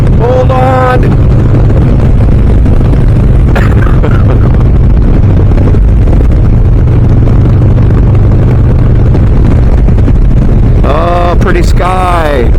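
A Harley-Davidson Low Rider S motorcycle cruising in sixth gear at speed, its engine a steady, loud low drone with heavy wind rush throughout, and a voice talking briefly at the start and again near the end.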